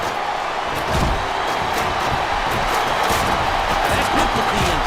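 Arena crowd noise from a wrestling video game, WWE SmackDown vs. Raw 2007, in a Money in the Bank match: a steady, dense roar of chanting and cheering that swells slightly after the first second and holds loud throughout.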